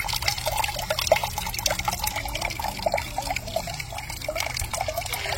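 Water runs from the tap of an IBC rain barrel, a steady close splashing trickle with irregular drips and gurgles that continues throughout.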